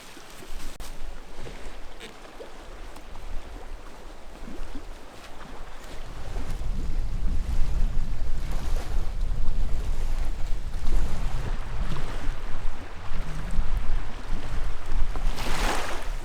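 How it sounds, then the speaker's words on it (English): Wind gusting along a lake shoreline in the Ontario boreal forest with waves lapping the shore, a steady broadband rush that swells louder partway through and stays strong, no voices. "The wind is starting to pick up, as you can hear with the waves."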